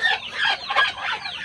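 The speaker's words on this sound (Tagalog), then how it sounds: "Dito tayo sa kulungan ng ating alagang manok at pato." Chickens and ducks cluck, squawk and call up close in a coop, a few overlapping bird calls in quick succession with no talking.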